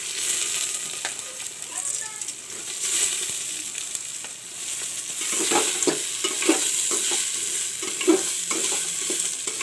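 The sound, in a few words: frying and stirring rice in a pan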